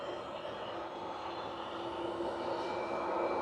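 A Ryanair jet departs Manchester Airport with a distant, steady engine roar that swells slightly as it goes on, heard alone without speech.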